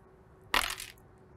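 Dice rolled during a board game, a single short rattling clatter of about half a second that stands out sharply against quiet room tone.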